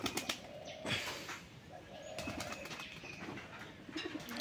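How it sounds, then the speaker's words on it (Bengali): Doves perched in trees beside a pigeon loft coo softly at moderate distance, low muffled calls over a faint outdoor background with a few light chirps and rustles. "প্রচুর ঘুঘু আছে ওই যে গাছের এইখানে ওইখানে"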